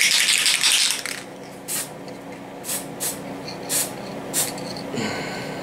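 Decal bonder sprayed onto an N scale CF diesel model locomotive: one longer hissing spray burst followed by several short, quick puffs at close range.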